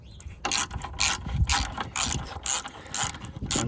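Close ratcheting clicks from a socket wrench backing out a bolt holding a Toyota car horn, a steady run of rapid metallic pawl ticks in short strokes, loud and alone.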